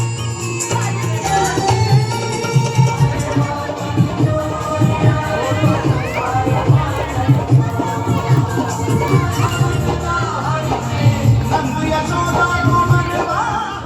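A dense neighbourhood crowd at a Janmashtami matki phod festival fills the air with constant loud chatter, children's shouts and scattered cheers. Music or amplified sound hums beneath the throng.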